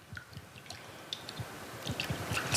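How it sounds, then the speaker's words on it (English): A honey and citrus juice dressing with lime and lemon zest being whisked in a bowl, giving soft wet clicking and squishing strokes in an uneven quick rhythm, close and fairly quiet with no talking. "Whisk that up."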